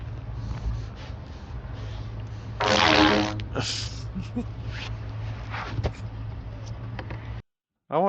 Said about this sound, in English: I'm at Home Depot with the pipe and I'm gonna fart in it